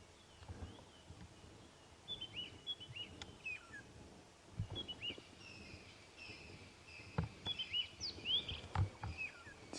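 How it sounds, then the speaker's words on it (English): Small birds chirp and call at sunrise on a safari drive, making faint, scattered high notes over a quiet outdoor background with occasional soft rustles and knocks. "You can hear quite a lot of birds calling around as well, the smaller variety"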